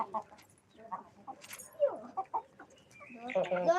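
A hen and her chick cluck and peep in short, scattered calls close by, with brief rustling and a few faint voices between them.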